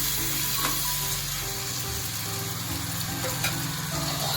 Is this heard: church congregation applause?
no